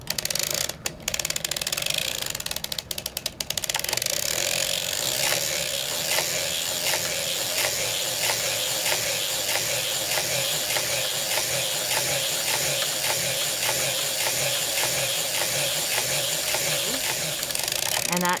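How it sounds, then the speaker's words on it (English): A circular sock machine being cranked through 70 rounds, a steady rhythmic mechanical clatter and ratcheting that repeats evenly throughout, close and moderately loud. "so I'm going to go and crank that forward."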